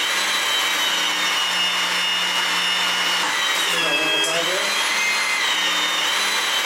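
HYTORC Smart Stud hydraulic pump and clamps tensioning a bolt, a steady mechanical motor whine with a tonal hum that dips and shifts pitch midway before settling back, continuous and fairly loud.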